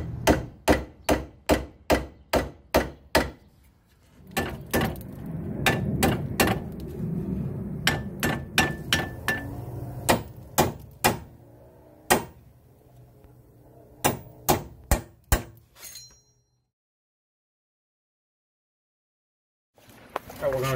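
Sharp metal hammer strikes ring out in quick bursts as a ball joint is knocked loose from the steering knuckle of a Chevrolet Sonic, with over a dozen close, loud blows separated by short pauses and then silence.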